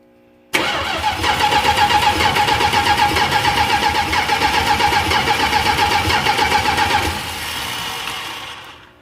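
A 1968 Dodge Charger with a 750 Edelbrock carburetor and no spark cranks steadily for about six seconds with a rapid rhythmic whir, never catching, then the starter winds down. No one speaks.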